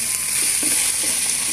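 Sotanghon noodles frying in a small pan while being stirred, a brief steady sizzle with a few soft scraping strokes, close and moderately loud.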